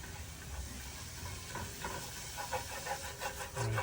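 Meat seasoned with salt, pepper and garlic powder sizzles and hisses steadily in a pan, a close, continuous frying crackle that swells a little toward the end.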